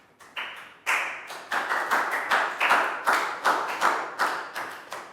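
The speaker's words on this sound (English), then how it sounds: "Big round of applause for Pat." A few people clap rhythmically in applause for a student in an English lesson, a close, crisp, evenly spaced series of claps with no talking.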